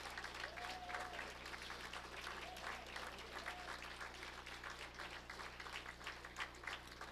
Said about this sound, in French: je vous demanderai de vous retourner et d'applaudir à votre tour, s'il vous plaît, vos parents, amis, conjoints, conjointes qui vous ont soutenu